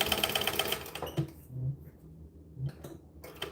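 Sewing machine top stitching a fabric bag, a steady rapid mechanical run that pauses briefly, then short bursts of stitching and low motor whirs, close and moderately loud, with no talking.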